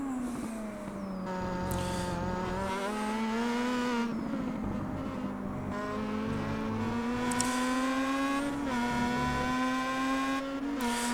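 Star Mazda race cars roar around the Interlagos circuit, a loud engine note rising and falling through gear changes as the cars run nose to tail at close range.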